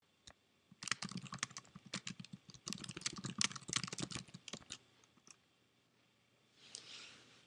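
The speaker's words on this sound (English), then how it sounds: "A text box will appear giving you the option to type your message." Message typed on a computer keyboard in a reply text box: a rapid, close run of light key clicks lasting several seconds, then a pause and a soft brief rustle at the end.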